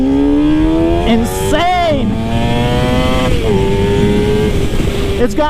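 A Suzuki GSX-R 600 sport bike accelerating hard at full throttle, engine pitch climbing steeply through quick gear changes, loud and close, with a voice talking over the engine.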